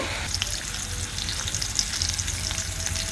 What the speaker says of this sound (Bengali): এখানে একটা কড়াইয়ে তেল দিয়ে দিয়েছি, পেঁয়াজ দিয়েছি পরিমাণ মতো